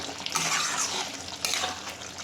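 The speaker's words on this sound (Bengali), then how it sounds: "আর সামান্য একটু গরম জল দেব, সামান্য" A little hot water is poured into a pan of methi chicken curry, a short close splashing gush that swells, dips briefly, then surges again before tapering.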